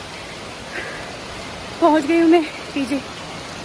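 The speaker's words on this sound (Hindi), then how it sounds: "बारिश आ गया है" Steady rain falls outside as a constant, even hiss, while someone briefly speaks over it.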